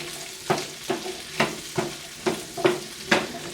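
Onions being stirred in a pan with aromatics, each pass of the utensil giving a scraping swish over a constant sizzle, about seven regular strokes close to the mic.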